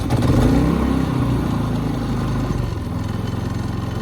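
A Harbor Freight 3500 inverter generator converted to run on natural gas fires up and settles into a loud, steady engine drone that eases slightly after an initial surge.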